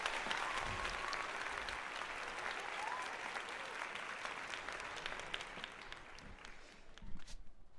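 Sustained applause from a crowd, steady clapping that fades slightly toward the end, heard at moderate volume.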